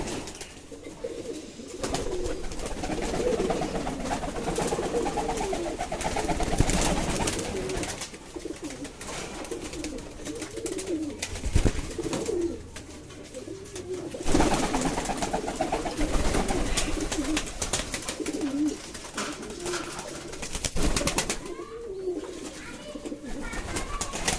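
Heavy pigeons coo steadily in a breeding loft, with a dense, continuous chorus of overlapping calls close by and loud throughout, during bathing time.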